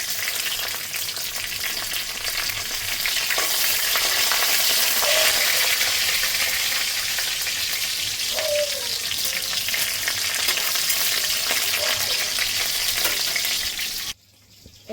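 Green chillies and black cumin seeds frying in a hot wok, a loud, continuous close-up sizzle with occasional stirring scrapes, steady for the whole stretch before cutting off abruptly at the end.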